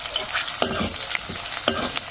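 Tomatoes go into a hot frying pan with green chillies, onions and mustard seeds, giving a close, bright sizzle broken by a few sharp stirring scrapes.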